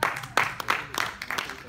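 Audience at a French-language media quiz game session breaking into a short burst of applause, brisk overlapping handclaps up close with voices talking over them.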